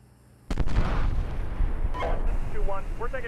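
Gunfire and artillery in the Steel Beasts Pro tank combat game: a sudden loud blast opens a dense rumbling barrage that carries on throughout, with a radio voice speaking over it.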